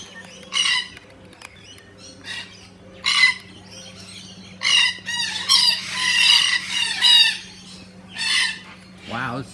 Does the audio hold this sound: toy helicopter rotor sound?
no